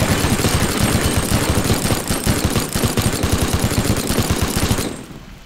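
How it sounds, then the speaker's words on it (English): Minigun firing in the video game Teardown, a loud, rapid, continuous burst of shots for about five seconds that cuts off abruptly. "This minigun is extremely destructive."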